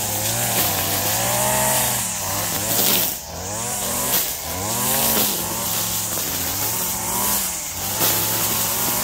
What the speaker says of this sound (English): We just going to have to weed whack it.